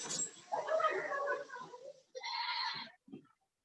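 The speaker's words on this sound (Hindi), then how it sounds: "बकरी की आवाज आ रही है पीछे से" A goat bleats in the background of an online class, its wavering cries running under a person talking.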